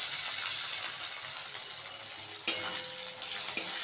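Garlic and green chillies sizzle in a pan with a soft, steady hiss, broken by a couple of brief sharp clinks near the end.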